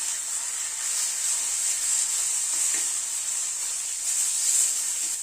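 Mashed shrimp and chopped flat beans sauté in a pan, a steady close sizzle with soft scraping stirs running throughout, no voices.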